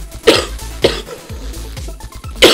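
Several sharp coughs from one person, three strong bursts spaced apart over a couple of seconds with quieter breathy sounds between, close and alone with no talk.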